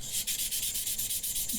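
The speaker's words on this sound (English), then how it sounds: "Sanding!" Rapid rhythmic back-and-forth sanding on a Mandalorian leg armor piece, a close, dry scratchy rasp repeating about every tenth of a second, with no talking.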